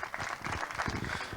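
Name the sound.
audience applause for the top three finishers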